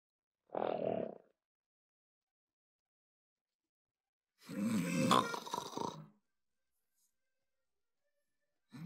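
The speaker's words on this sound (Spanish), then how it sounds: "Y encima ronca la condenada." A woman snores in a quiet room, two separate rasping snore breaths spaced several seconds apart, the second longer and rougher, with silence between.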